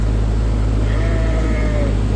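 A single sheep bleats in a long, wavering call against a steady low hum in a farm setting where sheep are being readied for breeding.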